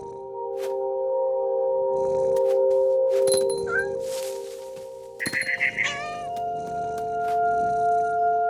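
A cat meows in What Remains of Edith Finch, a few loud, close, drawn-out meows over a sustained tonal music bed, with a short burst of scratchy rustling midway.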